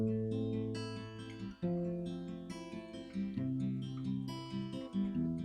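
Acoustic guitar fingerpicking a steady pattern of plucked notes through changing chords, clear and close, with no voices.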